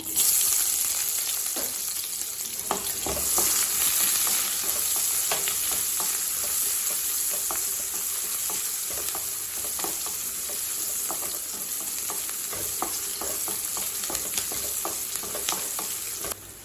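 Onions sizzle steadily in a hot pan with dried red chillies and asafoetida, with a constant frying hiss and occasional scraping clicks of stirring.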